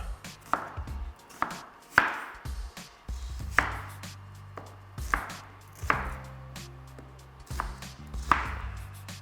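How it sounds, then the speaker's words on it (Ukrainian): A knife chops an onion coarsely for eintopf stew, about eight heavy, evenly spaced thuds on a cutting board. Each cut is close and distinct, with no voices. "відрізати тільки попку і цибульку грубо, грубо нарізати"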